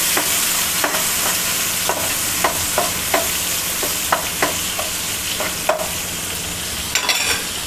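Raw banana curry cooking in a pan over a medium flame, a steady low frying hiss broken by regular clicks and scrapes of stirring, close and fairly loud, with no talking.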